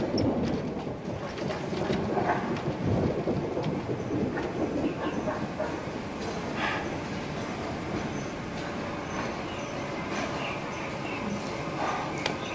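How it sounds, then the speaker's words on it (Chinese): Staged rain and thunder for a Chinese TV drama street scene: a dense hiss of rainfall with rolling rumbles and scattered sharp bursts over about twelve seconds. "下雨了，我们要回家了。"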